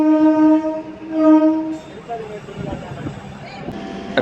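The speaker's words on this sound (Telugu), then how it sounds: "రాజంపేట నుంచి మన ట్రైన్ బయలుదేరింది" A DEMU/MEMU passenger train pulling out of Rajampet station on the Renigunta–Nandyal run sounds a long steady horn for about two seconds, then its rumble and rattle build as it departs, with voices talking over it.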